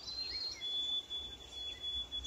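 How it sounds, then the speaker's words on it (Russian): Birds calling back and forth in springtime in Canada, a thin high chirping line running steadily through the clip over a soft outdoor background hiss, faint and somewhat distant. "Почти как в голодных играх птичка,"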